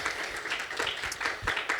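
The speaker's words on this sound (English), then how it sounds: "A round of applause" Conference audience applauding at the end of a technical talk on database performance, a short burst of dense, overlapping claps at even strength throughout, with no speech on top.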